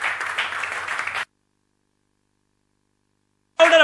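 An audience applauds an Asian Games medalist at a felicitation event: a dense burst of clapping for about a second, then an abrupt cut to silence before the noise returns briefly at the end.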